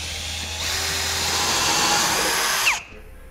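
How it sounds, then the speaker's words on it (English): A step drill bit bores a half-inch hole through a steel base plate on a 2013 Smart fortwo, a loud, steady whine that runs for a couple of seconds and then cuts off sharply as the bit breaks through. "I'm going to be using a step drill bit to drill out my hole to a half inch"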